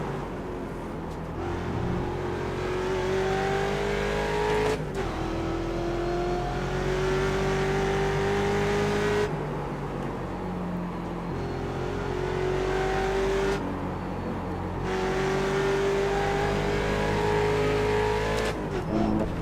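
A Mustang race car in iRacing at Road America, its engine droning loud and close as it winds up through the gears again and again, with abrupt drops at each shift and brief tire noise.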